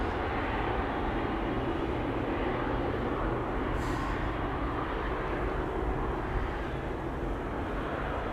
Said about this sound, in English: Here we have Emirates Sky Cargo, which is going to go to Dubai World Center, flight 9920, coming this way.